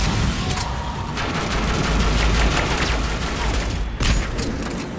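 Sustained turret gunfire in Mass Effect 3 Legendary Edition, a dense rattling barrage with heavy booming impacts, loud throughout and punctuated by a sharp blast near the end.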